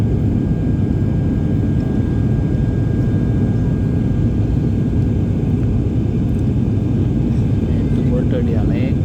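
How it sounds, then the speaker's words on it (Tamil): An IndiGo airliner in flight on its Chennai to Madurai route, banking through turns on approach to Madurai, gives a steady, loud low engine rumble that lasts the whole time with no break in level. "அப்படியே வளைக்கிறாரு, அப்படியே நல்லா எட்டு போடுறாருங்க ஃப்ளைட்லேயே."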